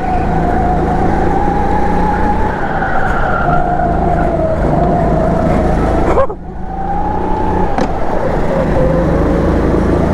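Go-karts race loudly and close on a kart track, with a steady whining engine tone that dips sharply as a kart brakes, then rises again.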